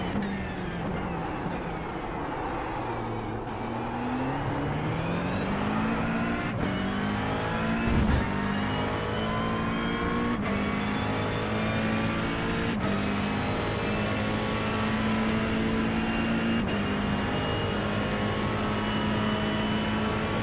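GT3 race car lapping the Montreal circuit in the iRacing sim, engine droning loud and continuous with rising and falling revs through gear changes and a brief thump near the middle.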